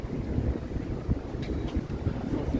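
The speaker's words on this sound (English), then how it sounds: "Although with the wind," Wind buffeting a microphone outdoors in Toronto on a cool November day, a continuous low rumbling blast with uneven gusts, no voices.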